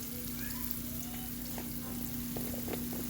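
Onions sautéing in a pan until lightly browned and translucent, a steady close sizzle with faint bubbly pops and occasional light stirring, no talking.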